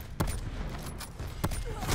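Sniper rifle fire in the multiplayer shooter Black Ops 4, two sharp separated shots over constant battle noise and background game ambience.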